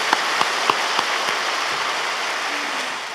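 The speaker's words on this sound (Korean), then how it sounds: "우리 하나님께 감사와 박수를 올려드립니다" A church congregation claps in thanks during a sermon, a steady wash of applause with no talking, fading slightly toward the end.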